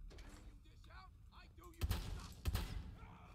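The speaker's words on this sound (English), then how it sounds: "I got the shotgun now." Shotgun blasts from Fallout 4 land as two heavy booms about two-thirds of a second apart, each with a short decay. Quieter game sounds and voices come before them.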